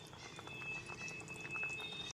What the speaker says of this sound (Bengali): এক থেকে দেড় মিনিটের জন্য ঢেকে ফুটিয়ে নেব